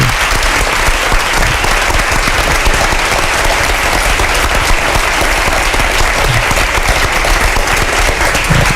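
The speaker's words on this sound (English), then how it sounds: "A round of applause for Mikko Hyppönen, please." A large audience at a Tech & Society talk with Mikko Hyppönen gives a round of applause: loud, dense and even clapping that holds steady for nearly nine seconds without a break.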